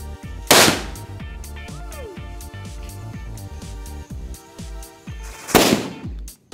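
Two loud, sharp bangs from Gold Lakshmi Diwali firecrackers, about five seconds apart, with a crackle of smaller pops and rattling bursts between them.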